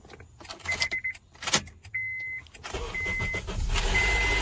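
A 2012 Honda Accord fires up with a newly programmed key: a few clicks and key rattles, short chime tones, then the engine cranks and catches, settling into a steady idle that fills the final seconds.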